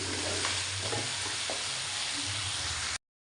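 Chicken qorma masala fries steadily in a pan as it is stirred, a continuous close sizzle with soft spoon scrapes throughout and no talking.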